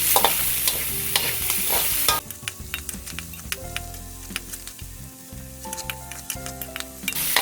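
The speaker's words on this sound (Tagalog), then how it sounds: "Tapos hahaluin lang natin." Onions sautéing in a pan for Filipino ginisang Baguio beans with beef, a loud hissing sizzle at first, then clattering spatula stirs and scrapes against the pan with a faint tonal hum behind, no talk.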